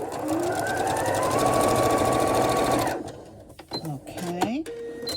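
A sewing machine runs steadily at speed, stitching a quarter-inch seam down each side of 2.5-inch quilt squares, then stops, leaving softer handling noises and brief clatter.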